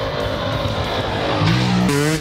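A motocross motorcycle engine starts and revs loudly and continuously at close range, its pitch climbing sharply near the end as the throttle opens.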